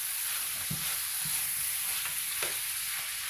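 Chili con carne with meat on the bone simmering in a pot, a constant bright sizzle with a few low stirring knocks and scrapes, no voices.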